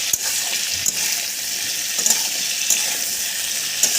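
Vegetables with salt and sugar stir-fry in a pan, giving a bright continuous frying hiss broken by a few light clicks and scrapes of the stirring utensil, close and with no talking.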